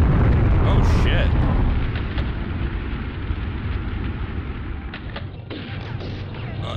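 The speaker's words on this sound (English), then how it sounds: "That's a tank." Tank explosions in Army Men: Sarge's Heroes video game, a loud booming rumble at the start that settles into a sustained heavy roar with a few sharper bursts near the end.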